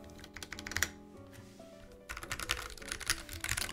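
Fast mechanical keyboard typing, clacky keystrokes with a slightly rattly edge from the stabilizers, close up, with a brief lull midway before the typing resumes.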